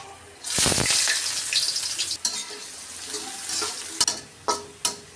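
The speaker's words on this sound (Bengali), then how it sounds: "এখন আমি পেঁয়াজ দিয়ে দিলাম" Onion dropped into hot oil tempered with whole cumin and a dry chilli, hissing in a loud burst and settling into a steady sizzle, with a few clinks of a utensil against the pan.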